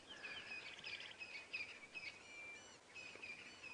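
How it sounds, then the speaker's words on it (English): A bird on a sunrise safari drive calls repeatedly with high, sharp chirping notes, fairly faint and distant over a quiet outdoor background. "we can hear a noisy bird. Bee, bee, bee, bee."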